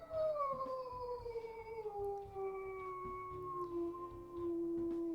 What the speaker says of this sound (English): You can listen to her howls here.